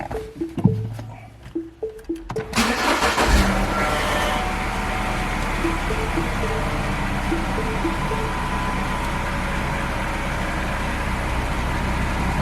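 A 2010 BMW Mini Cooper engine cranks with a few chimes and clicks, catches at about three seconds and settles into a steady close idle that runs on.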